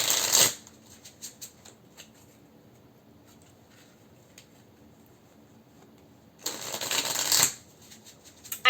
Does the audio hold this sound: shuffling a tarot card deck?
yes